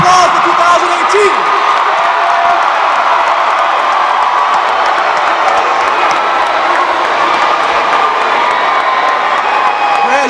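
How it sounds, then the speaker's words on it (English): A large graduation crowd at a high school ceremony cheers, whoops and applauds in a loud, dense wash that holds steady for the whole stretch, with shouts scattered through it. "Round of applause for 2018."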